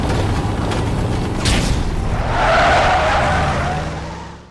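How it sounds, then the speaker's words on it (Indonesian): In a film car chase on a bridge, a car skids with squealing tires, then a heavy crash and tumbling rumble swells and fades. The sound is loud and continuous, with no talking. "dia mengalami kecelakaan di atas jembatan hingga mobilnya terguling beberapa kali"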